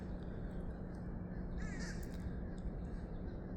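Crows cawing near a wooded trail by water, a few harsh squawks standing out over a steady background hum and a low outdoor rumble.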